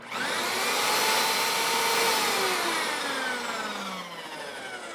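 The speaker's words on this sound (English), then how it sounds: "I'm gonna run it and just show you guys kind of what it does." A lawn dethatcher with spinning rake tines runs close by, a loud steady whirring drone that winds down gradually in pitch toward the end.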